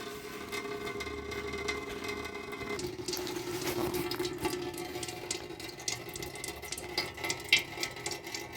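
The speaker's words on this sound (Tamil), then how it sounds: "தண்ணி ஒழுகிட்டு இருக்குது" Coolant water trickling and splashing steadily close by as it drains from a Toyota Qualis radiator, with a low mechanical hum underneath and small intermittent clinks.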